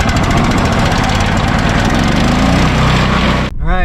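A wood chipper's small gas engine roars loud and close with a steady chugging drone, then cuts off abruptly near the end.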